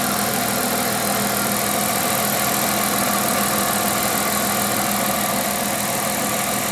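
A 1998 Plymouth Voyager Expresso engine idles steadily and close by, a continuous even hum with faint mechanical ticking and no talk over it.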